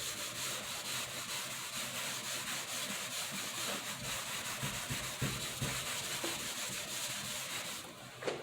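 Chalk being erased from a board coated in chalkboard paint, a continuous dry scrubbing and rubbing texture with rhythmic back-and-forth strokes, close and moderately quiet, no talking.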